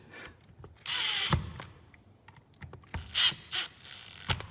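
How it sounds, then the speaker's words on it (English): Small screws being driven into the plastic shell of a Makita DWR180 cordless ratchet during reassembly: faint scratchy turning and clicks, with a brief louder whirring burst and a few sharp ticks, close and quiet. "Just lightly screw these on."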